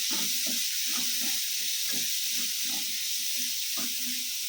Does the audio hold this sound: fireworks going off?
no